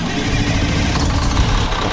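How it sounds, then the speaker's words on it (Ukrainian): A city bus engine starting up and running in Bus Simulator Pro: Urban Rivals gives a continuous, loud, low diesel rumble that holds steady throughout, with no speech over it. "все починає з того, що нам треба завести двигун"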